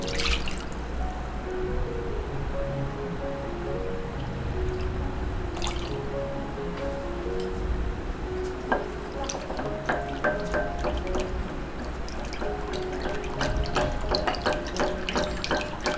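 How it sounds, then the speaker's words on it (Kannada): Water is poured into curd to make buttermilk, a continuous trickling, splashing pour with small drips and bubbling that grows brighter toward the end. It is close and alone, with no speech. "ಅರ್ಧ ಕಪ್ಪಷ್ಟು ಮೊಸರು ತೆಗೆದುಕೊಂಡಿದ್ದೀನಿ ಅದಕ್ಕೆ ಒಂದೂವರಿಂದ ಎರಡು ಕಪ್ಪಷ್ಟು ನೀರನ್ನು ಹಾಕ್ಕೊಂಡು ಮಜ್ಜಿಗೆಯನ್ನು ಮಾಡ್ಕೊಳ್ಳಿ"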